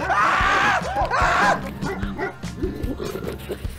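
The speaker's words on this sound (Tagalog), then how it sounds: "Aso yan." A dog barks in a village street in the Philippines, with loud, sharp repeated barks at first, then quieter, scattered barking with background noise.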